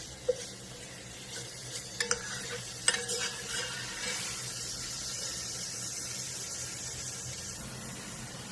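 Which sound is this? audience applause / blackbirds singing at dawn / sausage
sausage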